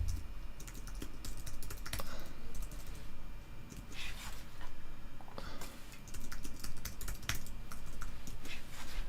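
An email address typed on a computer keyboard: rapid close key clicks in uneven bursts over a faint steady background hum, with short pauses between runs of keystrokes.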